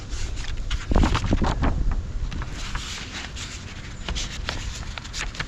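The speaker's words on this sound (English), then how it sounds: "It's windy," Gusty wind buffets the microphone in rough, continuous rumbling bursts, with faint rustling underneath and no voices.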